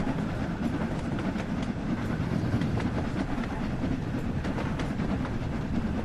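A train in Train Sim World 2 rumbles on the Liverpool to Crewe line as it slows by itself. The wheels give a continuous, steady low roar with faint rhythmic clicks, and no talk is heard.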